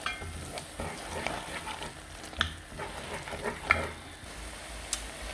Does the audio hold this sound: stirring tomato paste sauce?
yes